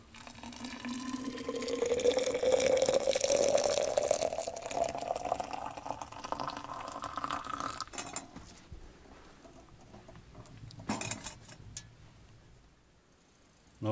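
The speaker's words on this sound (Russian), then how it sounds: "Заполняю термос." Water pours steadily into a thermos, the tone rising as it fills, then stops, followed by a few faint clinks and handling noises.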